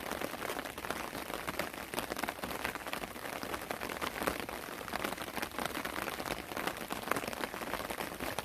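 Steady rain pattering on water and surfaces during a rainy-day fishing trip checking fish traps, a continuous even hiss of drops, fairly close and unbroken, with no voices.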